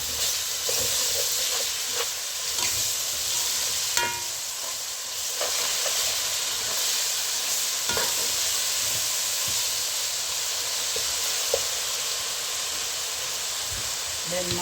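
Onions and green chilies frying in a pan for chicken biryani, giving a steady bright sizzle and hiss with occasional stirring clinks and scrapes.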